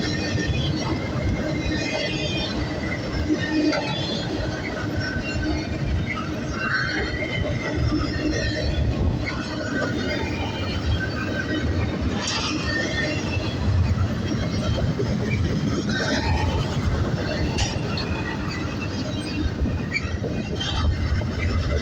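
A long freight train hauled by GP60 locomotives rumbles past continuously, its wagons rolling with loud, steady noise and occasional faint wheel squeals.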